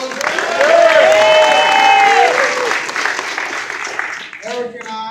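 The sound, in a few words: applause for Attorney General Eric Schneiderman at rally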